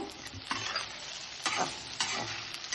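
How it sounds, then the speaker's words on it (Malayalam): Okra stir-fry with salt stirred in a pan, a steady close sizzle broken by a few scraping stirs of the spatula; no talking. "ആ പാകത്തിന് ഉപ്പ് കൂടി അതിൽ ചേർത്തിട്ട് നന്നായിട്ടൊന്ന് ഇളക്കി കൊടുക്കുക"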